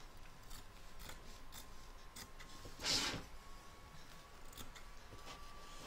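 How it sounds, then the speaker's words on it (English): Scissors trim excess batting from an appliqué in a machine embroidery hoop, making soft repeated snips and one louder, longer cut in the middle, quiet and close. "Remove the tape and trim away your excess batting."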